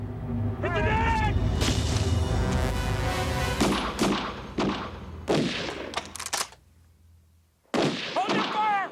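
Heavy gunfire rips through an action-drama siege scene, with sustained loud volleys and rumbling blasts. Shouting voices cut in over the shooting before a brief lull, then another burst follows.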